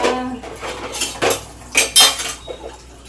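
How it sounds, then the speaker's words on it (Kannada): Dishes, pots and cutlery being washed at a home kitchen sink, with clattering metal utensils and several sharp clinks and knocks of pans close by, no talking. "ನನಗೀಗ ಪಾತ್ರೆ ತೊಳೆಯೋಕೆ ಹೆಲ್ಪ್ ಮಾಡಕ್ ಬಂದಿದ್ಯಾ?"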